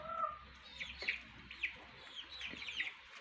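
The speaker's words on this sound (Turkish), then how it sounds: "Anne tavuk civcivlerini ayırdı artık." A mother hen and her chicks in a backyard garden, with soft, repeated clucks and thin chick peeps scattered across the moment, faint and somewhat distant.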